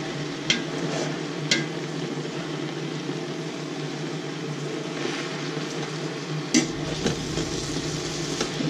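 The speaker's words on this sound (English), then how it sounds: "here I'm just still frying around." Collard greens frying in a small amount of oil, a steady sizzle with occasional sharp clinks of a utensil stirring the pan, close and fairly loud, no talking.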